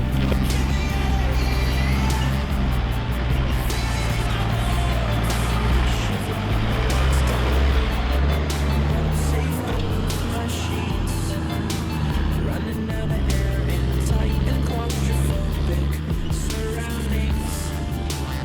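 A completely stock off-road vehicle grinds steadily along a rutted hidden bush track near Sydney, its engine droning loud and unbroken throughout with rattling and bumping over the ground.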